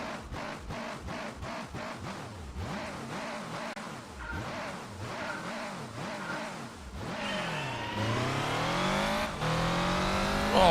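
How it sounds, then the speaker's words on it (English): A rally car in Gran Turismo 4 revs through its gears with rising and falling engine pitch, then builds into a long, loud, climbing whine, close and continuous with no talking. "Oh, but that's a nice engine sound."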